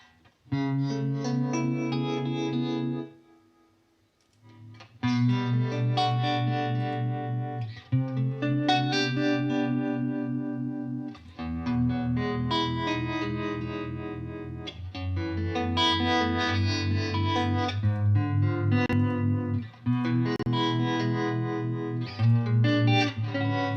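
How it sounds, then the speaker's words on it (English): Clean electric guitar chords with a pulsing, wavering harmonic vibrato on the clean channel and a reverb tail, played loud and steady with a brief pause early on. "the harmonic vibrato on the clean channel"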